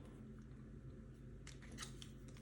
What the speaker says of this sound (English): This is a pair of scissors.